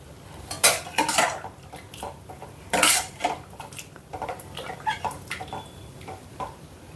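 Boneless chicken being mixed with a pinch of turmeric in a metal pot, with irregular clanks and scrapes of a spoon against the pot, a few louder knocks, moderately close and without talk.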